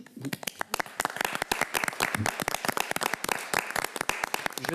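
Scattered hand clapping from an audience at a municipal council meeting in Coteau-du-Lac, brisk uneven claps with a few voices murmuring underneath.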